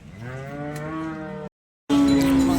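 A large HF cow at the Sangola cattle market gives two loud, drawn-out moos close by, separated by a brief pause.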